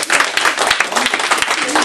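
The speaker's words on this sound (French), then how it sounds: "vous pouvez applaudir la surprise" A lively burst of audience clapping in a high school, dense and close, with voices and chatter mixed in over the short stretch.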